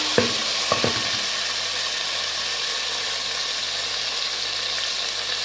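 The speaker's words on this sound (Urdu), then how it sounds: "اب ہم اس میں ٹماٹر ڈال دیں گے اور اس کو اچھی طریقے سے بھون لیں گے۔" Tomatoes sautéing in a pan, a steady even sizzle throughout with a few sharp clinks of a utensil against the pan near the start.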